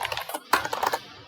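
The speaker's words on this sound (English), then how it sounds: "You can just type cd root here" Brief typing on a computer keyboard while entering Linux terminal commands: a handful of crisp, close key clicks in an uneven rhythm, one sharper keystroke near the middle, heard alone without talk.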